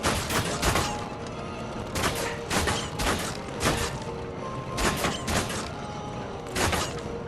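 Rapid bursts of gunfire in a video game, repeated volleys and sharp cracks spaced every second or so with mechanical clatter between them, loud and close throughout with no talk.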